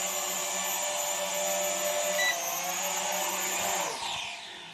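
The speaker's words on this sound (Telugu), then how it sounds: "ఇప్పుడు ఈ బటన్ ప్రెస్ చేస్తే మళ్ళీ డ్రోన్ అనేది కిందికి వస్తుంది" A Garuda toy drone comes down to land at the press of a button, its propellers holding a steady high whine that drops in pitch and fades as the motors wind down at the end.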